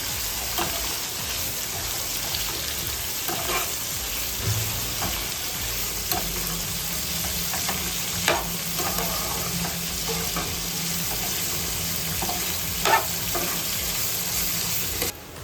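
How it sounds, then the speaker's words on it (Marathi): Sliced onions frying in oil on the stove until golden brown, for a chicken kali mirch curry: a steady, loud, close sizzle throughout, with occasional scrapes and clinks of stirring and no talking. "आता कांदे आपण छान असे गोल्डन ब्राऊन परतून घेऊया तेलावरती"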